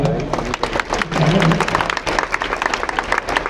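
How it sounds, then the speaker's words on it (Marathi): Audience applause, a burst of many hands clapping loudly in a dense irregular patter that swells and lingers, with some voices mixed in underneath. "त्यांना सगळ्यांना ऐकू जातील अशा जोरदार टाळ्या वाजवा"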